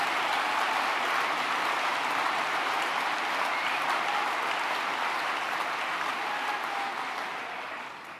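Dense, sustained applause from a packed conference hall audience at the Spring 2017 SNP Conference in Aberdeen, steady and loud throughout before tapering slightly at the end, with no talk over it.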